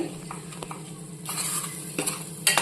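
A spoon stirs spice paste into brinjal masala curry in a pan, giving a soft sizzle with scraping and clinks of utensil on metal, closer and brisker toward the end.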